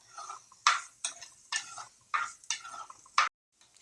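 Thinly sliced carrots are stirred in a pan in rhythmic scraping strokes, about six evenly spaced swishes with soft clinks, quiet and close, with no talking.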